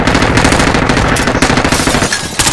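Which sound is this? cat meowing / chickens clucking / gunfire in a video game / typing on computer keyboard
gunfire in a video game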